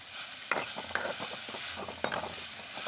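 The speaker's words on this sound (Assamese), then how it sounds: "এতিয়া মই এইখিনি গোটেইখিনি মিশ্ৰণটো লৰাই দিওঁ।" A garlic and salt chutney with shewali flowers being stirred in a pan as it sizzles, with a utensil clinking against the metal in a few sharp scrapes and knocks over a steady low frying hiss.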